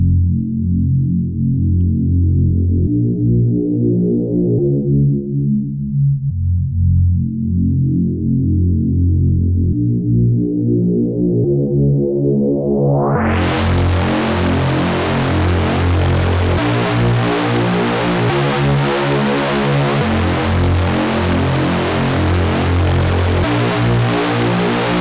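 Reese bass patch built in Sytrus with nine-voice oscillator unison, a thick detuned droning low tone that sweeps slowly, then bursts into a bright, harsh full-spectrum roar about halfway through, loud and continuous with no voices.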